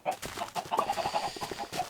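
Minecraft chickens clucking in a farm pen, a quick run of short, soft, repeated clucks layered over one another, fairly quiet and without talk.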